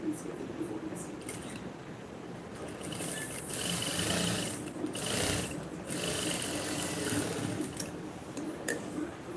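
A sewing machine stitches a blouse with invisible piping, producing a steady mechanical whir with ticking, rattling needle action that fluctuates in speed, while a person talks quietly.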